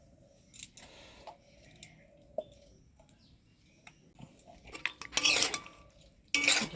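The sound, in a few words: ghee being stirred into cooking pot with spoon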